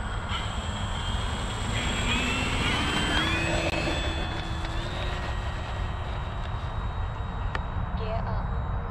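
An FMS P-47 Bonnie 1.5 m electric RC plane flies overhead on a fresh battery, its motor whine rising and falling in pitch as it passes at a distance, with a person talking faintly.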